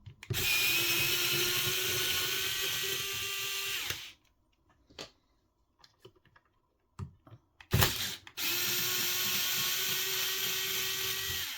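A power drill backs screws out of an RC car's steering assembly during an aluminum steering upgrade: two sustained whirring runs of about four seconds each, separated by a quiet stretch of small clicks and handling noises.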